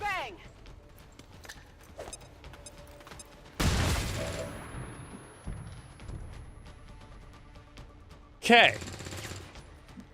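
XCOM 2 Long War game combat in which a flashbang grenade goes off with a loud sudden burst, followed by a second sharp blast near the end, with faint game mechanisms ticking between them and a brief spoken word.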